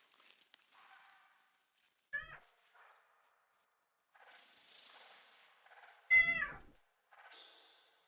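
A video game cat meows in two short distinct calls, separated by scattered faint clicks and soft noise bursts, with quiet gaps between sounds.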